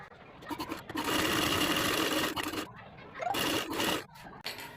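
A sewing machine runs in long steady bursts as it stitches the side seam of a cloth baby frock, whirring loudly and close with brief pauses between runs and no talking.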